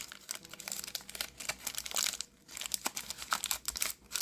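Paper crinkling and crumpling as it is folded up around a small plant for a DIY Christmas miniature, close and soft with irregular rustles and crackles.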